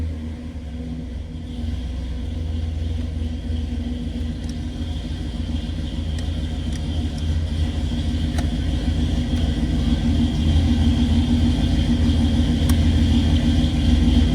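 A 1967 Oldsmobile Cutlass convertible resto-mod, cold after sitting overnight, idles with a deep, steady low rumble close by, the engine note building slightly louder over the run with a few faint clicks on top.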